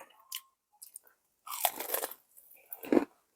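Crispy butterfly chicken is bitten and chewed up close, a few sharp crunches followed by softer chewing, quiet overall with short gaps between bites and no talking.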